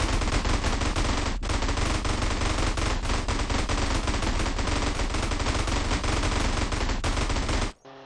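Sustained rapid automatic gunfire in GTA San Andreas, loud and unbroken for several seconds, then cutting off abruptly at the end.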